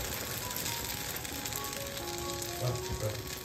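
A soft pancake sizzles steadily in a pan over a medium-low flame, with a couple of soft bumps near the end as it is flipped.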